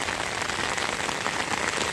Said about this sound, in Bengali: প্রচুর বৃষ্টি হইতেছে দেখেন এই যে বৃষ্টি পড়তেছে